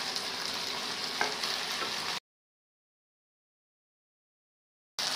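Onion, capsicum and jackfruit pieces fry in a pan with a steady, close sizzle and occasional stirring scrapes, then the sound cuts to silence before returning briefly at the end.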